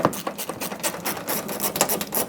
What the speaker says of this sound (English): So grab a socket and take this out.